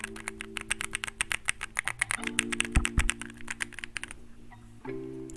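Rapid, steady clatter of fast typing on a keyboard fitted with custom keycaps, close and dry, with a brief pause near the end before a few more keystrokes.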